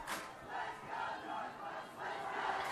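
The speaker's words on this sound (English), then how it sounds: "I hear the "Let's Go Northwest" in the background." A distant, muffled crowd at a high school girls' ultimate frisbee final, chanting in rising and falling rhythmic waves.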